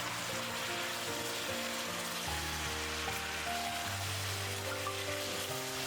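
Chicken wings simmer in their sauce in a pan over high heat, reducing with a steady, soft sizzling hiss under continuous background music.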